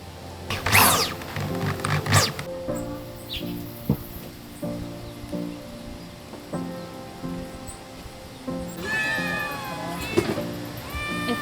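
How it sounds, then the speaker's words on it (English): Baby kittens meow in a few sharp, close bursts near the start and again toward the end, over a steady low hum and faint patter like rain on a surface. "I think it's dinner time for the baby kittens."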